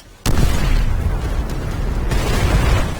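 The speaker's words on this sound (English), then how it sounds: "I just heard a grenade hit the ground." A loud grenade explosion from World at War bursts suddenly and rolls into a sustained, rumbling roar that stays heavy for several seconds, with no voices over it.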